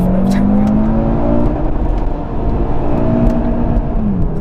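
Audi RS3 with a 400 hp engine revving hard under acceleration up to the rev limiter, a loud, steady engine note climbing in pitch and holding near the top, with no speech.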